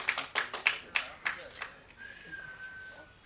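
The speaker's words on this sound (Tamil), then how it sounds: "இந்த கைத்தட்டல்கள் அனைத்தும் வஞ்சி அந்த படத்தோட டீமுக்கு தான் போய் சேரும்" An audience at a Tamil film function claps in a few sharp, spaced bursts that fade out, with a faint whistle-like tone afterward under quiet background noise.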